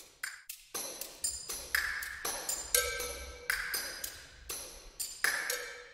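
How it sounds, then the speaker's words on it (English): Layered pings in overlapping cycles of 2, 3, 5, 7 and 11 form a prime-number polyrhythm: bright, clean tones that strike at uneven intervals with fast decays, some hits stacking together, moderately quiet and close. "here's a polyrhythm of 2, 3, 5, and 7"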